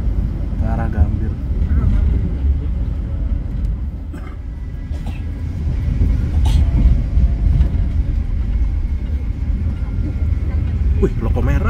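A red locomotive passes a curve near Jatinegara, Indonesia, with a steady heavy rumble of rolling rail traffic and some clanks, while people talk loudly over it throughout.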